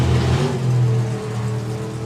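A drag racing car at the FIA Main Event drag racing meet, with a loud droning engine tone that holds steady and then eases off, heard at a distance across the strip.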